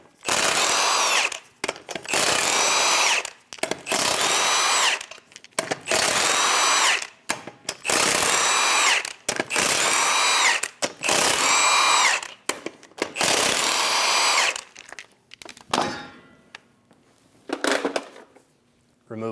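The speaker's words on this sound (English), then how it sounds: "Using a 22mm socket, remove the 8 lug nuts." An impact gun spins off the eight 22mm lug nuts from a wheel of a 2003-2025 Chevrolet Express 2500 van in about eight loud, close bursts of whirring and hammering, each separated by short pauses, with softer clinking at the end.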